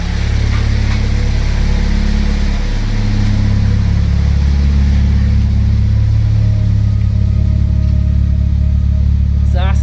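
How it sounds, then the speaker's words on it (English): A turbocharged Honda Civic engine, running rich, idles steadily with a low, even rumble, loud and close, while a person talks over it. "not only did the car start, but it's idling pretty well"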